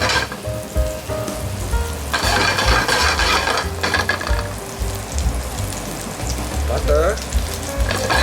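Sliced garlic sizzling in a pan for a butter, soy and mushroom sauce for pan-fried sea bass, a loud close steady crackle with stirring scrapes and a brief metallic clink near the end.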